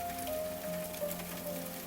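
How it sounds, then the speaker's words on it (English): Rain taps on a window glass in a soft, continuous patter. The close, gentle drops run steadily with no voices, under a faint sustained tone. "Rain continued tapping the window."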